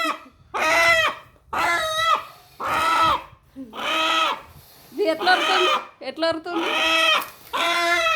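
A rooster squawks and cackles in loud, repeated frantic bursts, close by, as it is being caught, with people's voices mixed in.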